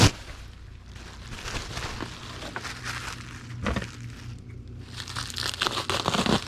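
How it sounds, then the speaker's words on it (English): A sheet of bubble wrap is handled and cut, giving steady crinkling and crackling plastic rustles with small pops, close and fairly loud, growing busier toward the end with no talking. "We'll need to get a sheet of bubble wrap and cut it in half."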